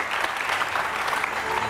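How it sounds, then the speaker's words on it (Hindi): A studio audience at a live Iftar television program bursts into applause, a dense, loud wash of many hands clapping at once for a brief moment. "तालियां होनी चाहिए।"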